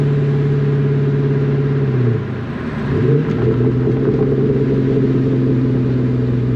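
A Ford Mustang with a Coyote V8 drives along, its engine holding a steady mid-pitched drone that dips briefly and then swells back as the car keeps moving, loud and close with no talk.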